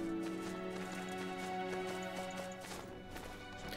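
Horse hooves in the game Death's Gambit clop in a quick, steady rhythm over a layered backdrop of music-like tones, moderately loud and close, with no talk.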